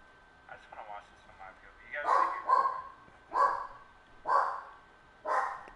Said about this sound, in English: Now you got a dog in the background.